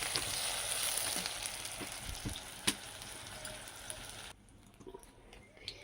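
Fish fries in hot oil with a steady, close sizzle that suddenly drops off to near quiet near the end, followed by a few faint clinks.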